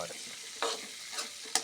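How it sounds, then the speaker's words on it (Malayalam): Thin lengthwise slices of ginger are stirred and sautéed in a hot pan for a Kerala-style jackfruit seed pickle, giving a steady close sizzle with a few louder scraping stirs. "ഇഞ്ചി ഇങ്ങനെ ഇതെടുത്ത് നമ്മൾ നീളത്തിലരിഞ്ഞു കനം കുറച്ച് ഇതിൻ്റെ പച്ചപ്പ് മാറുന്ന വരെ നമ്മളിത് വഴറ്റി വെക്കണം"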